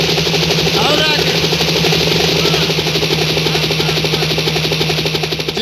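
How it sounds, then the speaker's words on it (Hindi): A loud helicopter sound effect plays during a comedy nautanki stage performance, a constant throbbing rotor and engine drone that runs throughout while performers talk over it. "और पायलट हेलीकॉप्टर नीचे ला"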